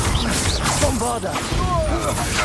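Bombarda blasting spell going off in a hard-difficulty Hogwarts Legacy battle: loud, crashing bursts amid a dense clash of spell effects, with game voices speaking over the fighting.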